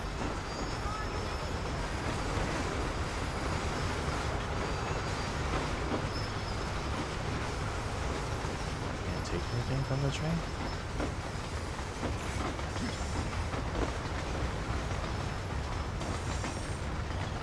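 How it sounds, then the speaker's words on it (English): Train rolling along rails in the video game Red Dead Redemption, a steady broadband rumble with faint wheel squeal, continuous and fairly close, with some talk over it. "I assume this train is going to where I'm going."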